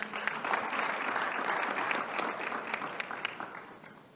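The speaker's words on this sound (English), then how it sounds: "Let's give her a round of applause as she comes up" Audience applause at a conference on youth employment in food systems and agriculture, a continuous crowd of clapping heard somewhat distant and soft, with individual claps standing out now and then.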